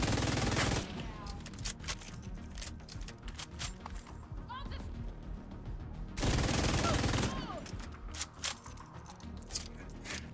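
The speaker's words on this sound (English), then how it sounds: "I hear gunfire." Gunfire in the video game The Division, bursts of rapid shots and scattered single reports at moderate distance, with two louder dense volleys at the start and around the middle amid game ambience.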